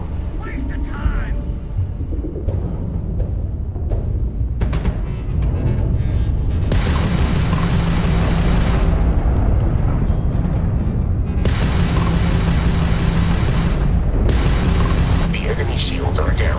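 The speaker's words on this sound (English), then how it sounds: "we can lock in to fire a homing missile" A homing missile launches during space combat in Starfield, a string of heavy booms and rumbling blasts with mechanical whooshes, loud and close, while voices talk over parts of it.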